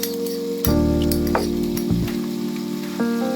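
Seasoned rice for ackee and saltfish, cooked in coconut milk and chicken stock, sizzles steadily in a pan as a spoon stirs it, scraping and clinking a few times over the constant hiss.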